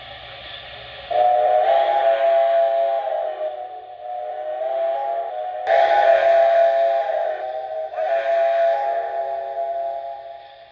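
An MTH Premier Erie 0-8-8-0 Angus model steam locomotive whistle sounds in long sustained blasts, steady and fairly loud, with a brief pause and then further blasts, over faint rumbling.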